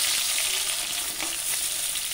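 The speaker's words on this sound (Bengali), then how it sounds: "পটলটা ভাজা করে তুলে নেব।" Pointed gourd (potol) frying in oil in a wok for a Bengali home dish, a loud, continuous, close sizzle with light crackle and no talking.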